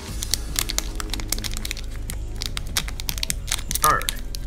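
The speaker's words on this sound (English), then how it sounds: "we're just gonna pull the tab because we don't have any scissors" A Pokémon XY BREAKthrough-era booster pack's foil wrapper is torn open by its tab, giving rapid crinkly crackles and small tearing bursts close to the mic, ending in a sharper crackle, with low background rumble.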